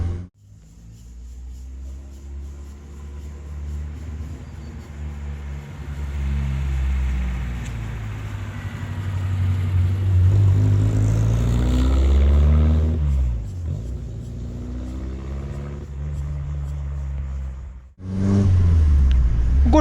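A 1990 Volkswagen Gol GTS engine revs up and holds a loud, rising rumble for most of the stretch, easing off briefly near the end before surging again close by.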